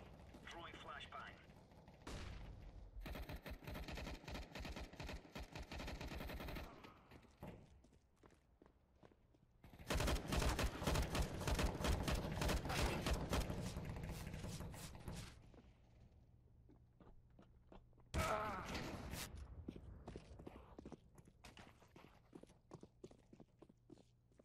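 Gunfire in Counter-Strike: Global Offensive while shooting a player, with bursts of rapid automatic shots separated by quieter stretches, close and loud alongside footsteps and other game sounds.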